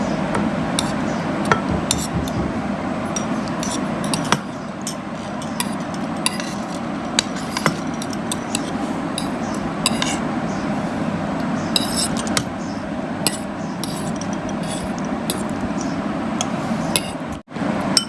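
Tutti frutti cubes coated in green colouring are mixed in a bowl, giving a steady run of scraping and clinking, with sharp spoon-against-bowl ticks recurring throughout at close range.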